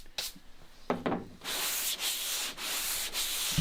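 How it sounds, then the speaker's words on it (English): A board being sanded by hand for preparing carbon fiber parts: a few short scrapes, then steady, close sanding strokes in a rhythmic back-and-forth with brief pauses between passes and no voices. "We can get that sanded down."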